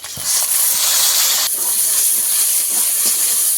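Tomatoes dropped into a hot pan of oil and spices while cooking a fish curry give a loud, continuous close-up sizzle and hiss that holds steady for several seconds, with no talking.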